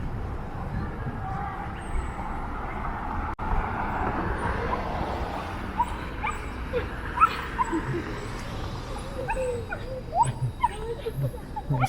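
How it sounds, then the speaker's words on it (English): A small, excited dog yips and whimpers in short, irregular bursts on a city street, with steady traffic noise and distant urban bustle underneath. "That's one excited little doggy."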